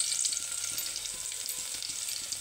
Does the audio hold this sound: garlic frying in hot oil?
yes